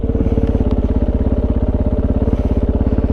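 A Kove 450 motorcycle fitted with a Dominator exhaust and an off-road airbox, running a race tune: a loud, close, rapid single-cylinder thump at a steady pace as it rides toward a jump.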